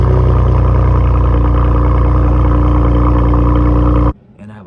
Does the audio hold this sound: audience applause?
no